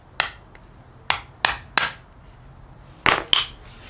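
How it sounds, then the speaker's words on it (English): An awl tapping down the rivet rod of a Lexus SC400 door handle gives sharp, close metallic clicks: three early taps, then a quick pair and a final pair, each a crisp isolated strike. "you take like an awl like this or a screwdriver, and then you just tap the top part of the rod down"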